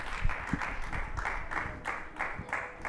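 A game-show audience in La Réunion applauds the winner, Mathieu, with steady, even clapping from a small crowd throughout, moderately loud and without a break.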